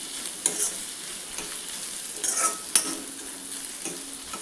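A spoon stirs green chilli and black pepper paste into bottle gourd curry in a pan, a steady close sizzle with scraping strokes and a couple of light clinks.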